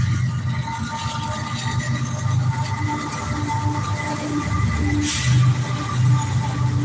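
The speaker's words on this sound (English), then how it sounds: "Uh-oh, we got another train." A train passes nearby with a continuous low rumble and rolling rail noise that holds steady throughout, with a brief hiss partway through and faint squeal tones above.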